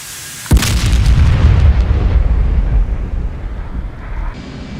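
A single bomb strikes buildings in the DCS F/A-18C flight simulator, setting off a sharp, loud explosion that rolls into a long, heavy rumble. The rumble holds steady for several seconds before thinning at the end.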